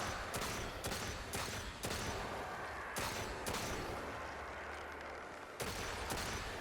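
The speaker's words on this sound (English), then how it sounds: "the sound of this hand cannon, I absolutely love it" A rapid series of loud gunshots from a hand cannon in Destiny 2, several sharp blasts spaced about a second apart with short gaps, no talking.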